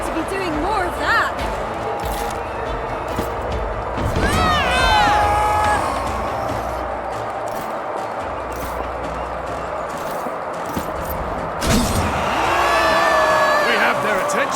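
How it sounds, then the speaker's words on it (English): A crowd in the Expeditions: Rome game cheers and whoops in swelling bursts, set against horse hooves clip-clopping, while a character talks over the din. "I've missed the sound of a cheering crowd."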